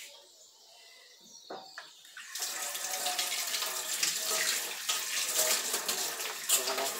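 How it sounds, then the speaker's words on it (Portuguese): Tap water runs steadily into a sink to rinse a hot pan after a few soft clanks of handling, then a continuous splashing rush that stays loud and close with no talk. "Vou passar uma água aqui."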